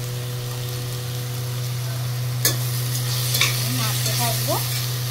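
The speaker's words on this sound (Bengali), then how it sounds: "নাড়তে থাকবো, একটু জল অ্যাড।" Spices with cumin powder, coriander powder and turmeric being stirred in a sizzling frying pan, a constant frying hiss with scraping strokes of a spoon, plus a steady low hum underneath.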